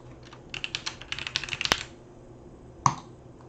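A computer keyboard typed on to log in, a quick run of about a dozen light clicking keystrokes, then a sharper single click after a pause, fairly close and without talk.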